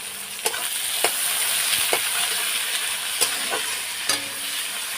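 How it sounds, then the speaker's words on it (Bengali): Onions frying in a pan, a steady bright sizzle running throughout with periodic scraping clicks from a spatula stirring about once a second, close and clear, no voices. "পেঁয়াজটাটাই দিয়ে দিলাম এটা এখন একটু ভেজে নেব লাল লাল করে"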